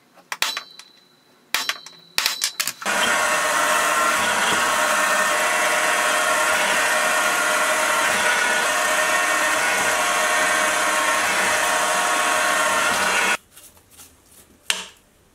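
A machine rounds off the end of a steel go-kart torsion bar part with a loud, harsh, continuous grinding roar lasting about ten seconds, framed by a few clanks before and after.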